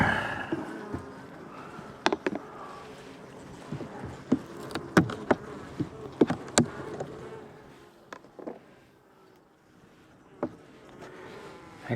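Honey bees around a beehive on a warm January day during a winter hive check, giving a low continuous hum with several sharp buzzes as individual bees fly close past, no voices.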